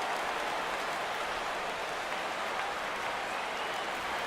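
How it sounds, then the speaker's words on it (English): A baseball crowd at a Red Sox versus Cubs game rises for a full count, a dense, steady wash of cheering and clapping that stays even and broad throughout. "Crowd gets up for the 3-2."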